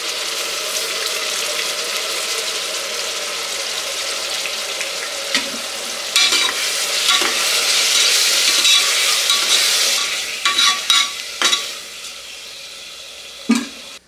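Ground masala paste fries in a pan for egg biryani, giving a steady close sizzle broken by a few stirring clatters and scrapes, with no one speaking.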